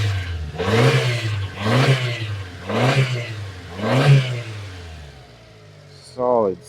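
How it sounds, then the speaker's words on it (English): Subaru Sambar engine running, four distinct revs rising and falling in a steady rhythm, clear and close, followed by a quieter idle. "But this motor sounds really good."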